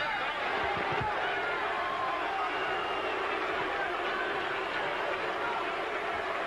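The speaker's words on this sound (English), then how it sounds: "as the crowd boos" Boxing arena crowd at a Tony Tucker versus Oliver McCall fight, a dense, steady roar of booing and shouting that fills the whole stretch at constant loudness.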